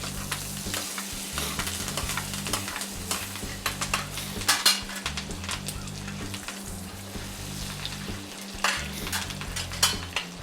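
Veal sweetbread with thyme and a garlic clove sizzles steadily in foaming butter in a pan while a spoon scrapes and clinks to baste it, close up, with a continuous frying hiss throughout.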